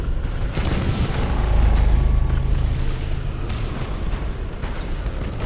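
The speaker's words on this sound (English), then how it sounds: "Those missiles going to hit. I think one will. Yep, one hit." Missiles striking ships in the space strategy video game Battlefleet Gothic Armada set off deep rumbling explosions, a sustained low boom swelling in the middle and then fading, loud and close with no talk.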